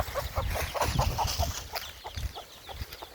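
Chickens clucking in short repeated bursts close by, with scattered bird calls and a steady background bustle.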